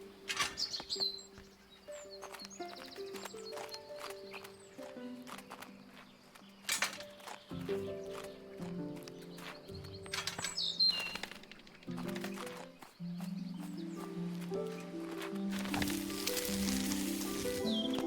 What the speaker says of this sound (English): D'autres oiseaux qui sont arrivés.